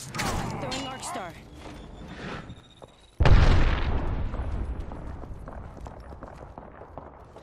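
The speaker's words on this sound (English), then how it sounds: "Throwing Arcstar." An Arcstar grenade goes off in Apex Legends, a sudden loud blast partway through that decays into rumbling noise, following quieter in-game activity and gunfire.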